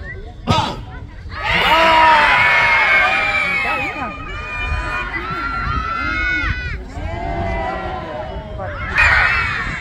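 Children shout and scream in a loud, continuous crowd at the opening of a holiday camp, excited voices overlapping with cheering and running for nearly ten seconds, with a brief sharp burst near the start and another swell at the end.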